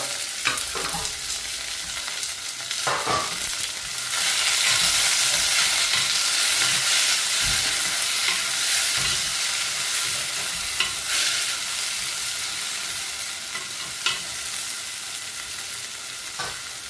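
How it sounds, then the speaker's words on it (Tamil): Onions fry in a pan as tomato and garlic go in for an eggplant curry, a loud continuous sizzle with stirring scrapes and occasional sharper clatters throughout. "இப்போ இதில் எடுத்து வச்சிருக்கிற இந்த தக்காளி பழத்தையும் உள்ளியையும் நான் போட்டுக்கொள்ளுறேன்"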